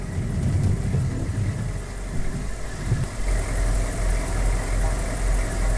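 A vehicle engine in the military game ArmA 2 runs steadily with a loud, rumbling, droning tone that swells slightly, with faint voices underneath.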